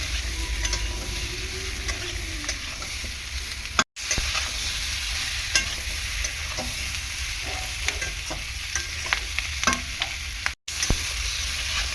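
Pre-fried potatoes and capsicum are stirred and fried in a spice masala for a rohu fish capsicum dish, with a continuous sizzle and repeated scraping stirs of a spatula in the pan, no voices.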